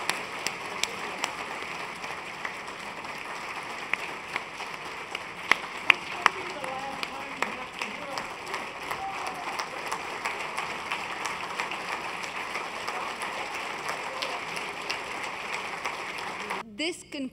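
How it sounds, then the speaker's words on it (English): An audience at a distinguished lecture series event applauds in a dense, steady wash of clapping for about seventeen seconds, with some voices mixed in. "another round of applause for people who demonstrate love"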